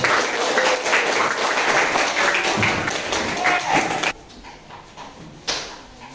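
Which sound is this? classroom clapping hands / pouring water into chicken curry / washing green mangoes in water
classroom clapping hands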